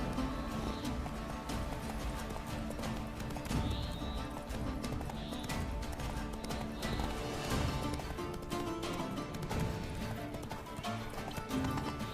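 Roach the horse gallops in The Witcher 3 with steady, rapid clip-clop hoofbeats, and occasional whinnies rise over dense game music and ambience throughout.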